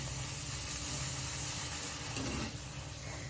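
Pumpkin gharge fritters frying in hot oil over a high flame, a steady, dense sizzling hiss throughout with no breaks.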